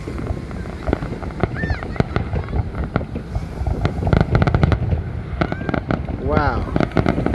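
Fireworks explode over Long Beach, New York in a rapid series of sharp bangs and rumbling booms, with crackling bursts and wind noise, while excited onlookers talk.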